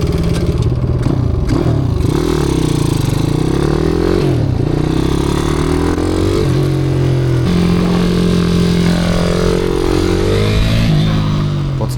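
A pit bike engine revs hard and continuously during track riding, its pitch rising and falling as the rider opens and closes the throttle through corners. It is loud and close throughout with no talk.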